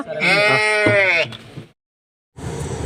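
A sheep at a village farm lets out one loud, drawn-out bleat close up, then a short pause and fainter shuffling sounds, with no talking.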